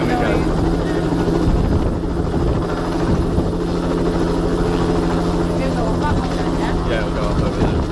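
A Bell JetRanger 206 helicopter taking off from a country house grounds, its loud, steady rotor chop and turbine whine filling the whole stretch close by, with people talking over it.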